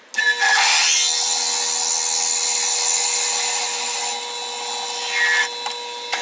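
A 15/32 drill bit bores lengthwise into a Hawaiian curly koa hybrid pen blank for a pen cap. It makes a loud, steady high whine with a grinding edge that holds for several seconds and eases slightly toward the end.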